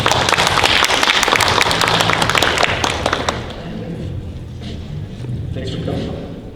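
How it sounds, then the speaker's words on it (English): At a convention panel, an audience breaks into loud, dense clapping for a speaker that fades out after about three seconds, leaving quieter room murmur and voices. "Give him a round of applause."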